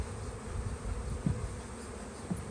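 Honey bees hum around an open hive in spring during a nectar flow, a soft continuous buzz with a couple of brief louder passes close by.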